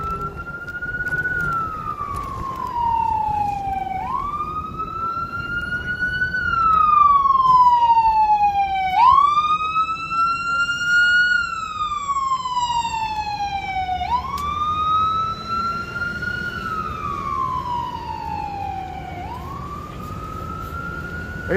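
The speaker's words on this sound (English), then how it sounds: "sirens." A loud wailing siren rises and falls in repeated slow sweeps, with a second siren layered over it, under steady road noise, heard while riding an e-bike in Philadelphia.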